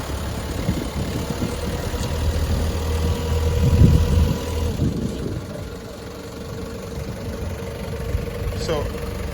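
A forklift engine runs steadily through a cone zigzag driving drill, rising in a louder surge midway before settling back, with a voice talking over it.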